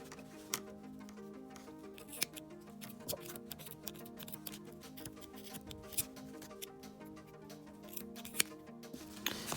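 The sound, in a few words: scissors trimming yarn pom-pom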